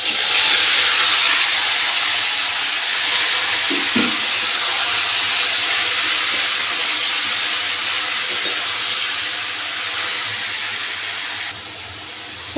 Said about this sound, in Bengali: এবার দিয়ে দিচ্ছি সেদ্ধ করা সবজি।